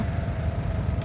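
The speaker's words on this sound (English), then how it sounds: "vibrates a lot on idle. You can probably hear it in the background" A small camper van engine idles steadily with a low, rough, vibrating rumble and a constant mid-pitched hum, no voices.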